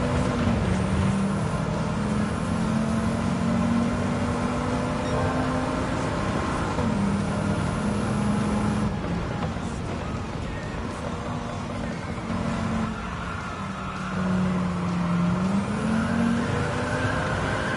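A racing car engine in the video game Gran Turismo 7 drones loudly and continuously, its pitch rising and falling with gear changes and a whirring, fan-like tone.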